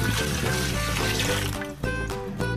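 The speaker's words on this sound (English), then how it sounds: "I put the water 2000 milliliters." Two litres of water poured into a container for a gold-recovery process from ceramic CPU scrap, a steady splashing pour that fills the clip, with no talk.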